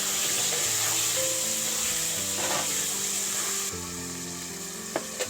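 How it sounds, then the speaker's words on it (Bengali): Potatoes sizzle steadily in hot oil in a wok, a continuous close frying hiss with faint stirring scrapes near the end and no talking. "তো দেখো আমি আলুটা কড়াই দিয়ে দিয়েছি"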